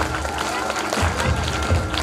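Loud applause fills a hall at a school annual gathering, a dense and steady wash of many hands clapping that carries through the whole moment.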